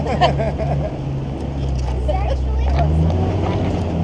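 A Pink Jeep tour vehicle climbing the rocky slope of Stone Mountain on the Broken Arrow trail near Sedona, its engine a steady low drone throughout, with passengers talking and exclaiming over it.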